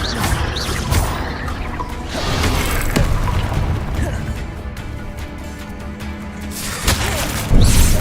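Confringo blasting spells from Hogwarts Legacy go off in loud booming bursts, with crashing impacts and clattering debris over a dense roar of battle sounds, several sharp hits spread across the stretch.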